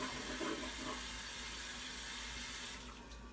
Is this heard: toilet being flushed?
yes